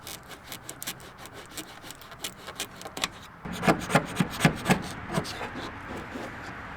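A jon boat hull is sanded by hand with 180 grit sandpaper, giving rhythmic rasping strokes that grow louder and rougher halfway through.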